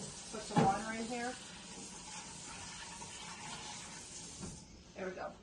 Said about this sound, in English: Now I am actually going to take this right over and put some water in here.